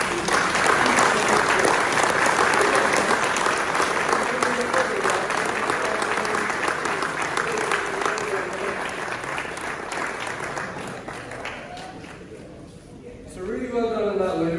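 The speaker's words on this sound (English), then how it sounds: "So I think that deserves a huge round of applause, Will." An audience at a farming awards event gives a sustained round of clapping, loud and steady at first, then thinning and tapering off, with voices emerging near the end.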